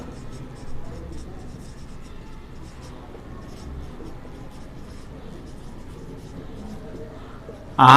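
Pen writing out a math solution on paper, a soft continuous scratching that runs for several seconds with faint ticks, close and quiet, ending with a louder knock.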